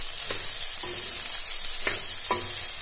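Soybean chunks and potato fry in oil while a spoon stirs them, a constant bright sizzle with several scraping strokes against the pan, close up and alone.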